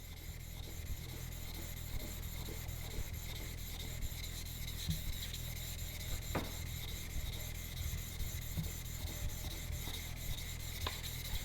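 A chisel is honed on a sharpening stone, giving a steady, close rasping rub that continues without pause, with occasional small clicks over a low hum.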